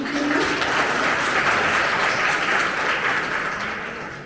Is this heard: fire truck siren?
no